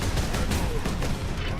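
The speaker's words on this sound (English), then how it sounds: "when you're plugging away with the bolter" Rapid bursts of bolter gunfire in the Warhammer video game Space Marine, a dense, loud, continuous volley of shots with heavy low rumble throughout.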